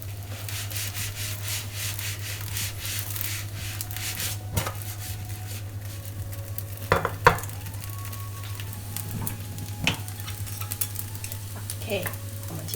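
A chive and flour pancake fries in a pan with a steady low sizzle and a constant hum underneath. Occasional scraping strokes and sharp knocks of a utensil break through, heard close up without speech.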